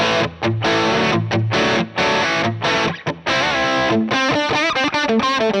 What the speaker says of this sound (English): what you're hearing is just the R121 on, I believe I said, the Greenback 20 cabinet.